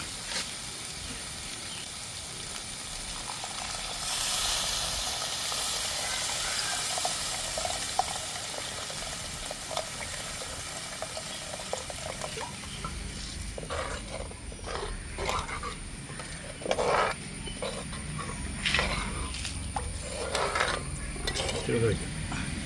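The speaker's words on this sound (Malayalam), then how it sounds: "വെള്ളം വെട്ടി തിളച്ചിട്ടുണ്ട്" Water rolls at a boil in a pan for a fish curry, a steady close bubbling roar that turns more agitated near the end, with occasional clinks.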